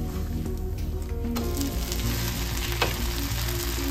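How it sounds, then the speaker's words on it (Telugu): Rava dosa crisping on a hot pan over a low flame, giving a steady, close sizzle and fry throughout with faint scraping touches and no talk. "లో ఫ్లేమ్లో ఫ్రై అయితేనే క్రిస్పీగా వస్తుంది దోశ"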